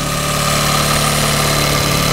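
A Yamaha 9.9 outboard motor idles steadily while warming up, a continuous close, loud puttering drone with a fast regular firing rhythm and no voices.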